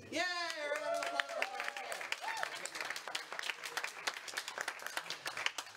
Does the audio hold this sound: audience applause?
yes